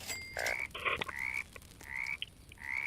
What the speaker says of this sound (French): je crois que ça, c'est des grenouilles